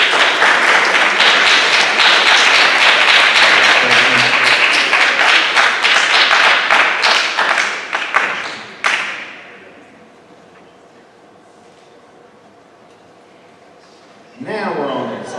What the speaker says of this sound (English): Give the sophomores a round of applause